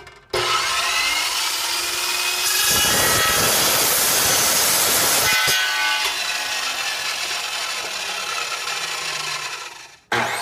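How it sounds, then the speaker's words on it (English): A power saw rasps through a hose, a loud continuous grinding cut with a harsher stretch midway, followed by a lighter running whine and an abrupt stop. "Just try cutting this type of hose with any other saw"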